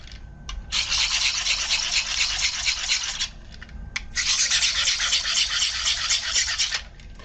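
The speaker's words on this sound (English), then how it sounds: "I always make sure to sharpen it" A telescoping utility blade is sharpened in two steady rasping strokes, each about two to three seconds long, with a short pause between them. The sound is close and clear, with no talk.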